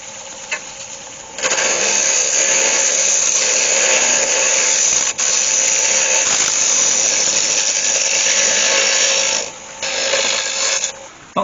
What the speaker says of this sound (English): I'll just clean that up and then sand that down.